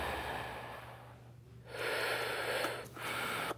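A person breathes deeply in two long, steady breaths, with a brief pause between them. The breaths are close and fairly loud, and nobody speaks.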